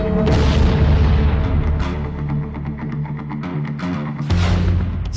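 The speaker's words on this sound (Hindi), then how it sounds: "ईरान के बैलिस्टिक मिसाइल हमलों से दहल उठा बेरशेवा" Ballistic missile strike explosions in Beersheba: a series of loud booms and bursts rumble one after another, reverberating with deep low rolling energy.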